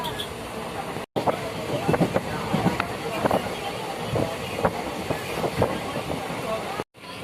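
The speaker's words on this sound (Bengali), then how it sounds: "এখন কাটোয়া থেকে নেমে আবার ট্রেন ধরে নিয়েছি আমরা" A train departing from Katwa rumbles along the rails with rhythmic clacking and steady broadband noise, brief dropouts, and faint voices in the carriage.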